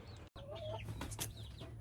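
Close rooster clucking and squawking among other roosters, several short rough calls with a low steady hum underneath and a brief dropout near the start.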